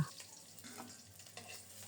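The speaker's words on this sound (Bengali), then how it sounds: "রুই মাছের পিসগুলোতে লবণ হলুদ সামান্য একটু গুঁড়ো মরিচ মাখিয়ে তেলে ছেড়ে দিলাম উল্টে পাল্টে খুব সুন্দর মতো রুই মাছের পিসগুলো ভেজে নেব" Rohu fish pieces rubbed with salt, turmeric and a little chili powder fry in hot oil, giving a soft, steady sizzle heard faint and alone.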